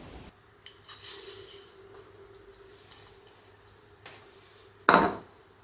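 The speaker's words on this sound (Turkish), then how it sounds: "Ve bir kaşık elimle şöyle bir karıştırıyorum." A spoon mixes egg with brown sugar in a bowl, giving soft, faint scraping strokes and one sharp clink near the end.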